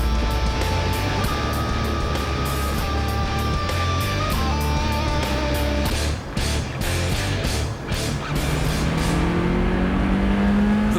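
An MG MGF Trophy sports car, a racier version of the MGF roadster, drives hard and accelerates. Its loud engine roars continuously throughout, with rising revs and gear changes, and no voices are heard.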